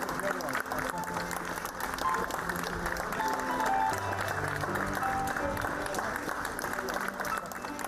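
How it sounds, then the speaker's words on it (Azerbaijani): Steady applause from a crowd of mourners at a memorial farewell for honoured actor Elxan Qasımov, sustained and fairly loud throughout, with murmured voices and music-like tones underneath. "İlxan Qasımovu sevənlər də onu əbədiyyətə alqışlarla yola saldılar"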